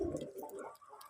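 Native red pigeons kept at home coo softly nearby in low, rounded, repeating calls over about a second, with no voices.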